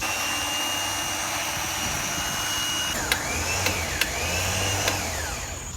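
Steady mechanical whine of a Jeep's winch pulling a wrecked 2017 Corvette Z06, running continuously at close range with a rising pitch partway through and a few sharp clicks or clanks.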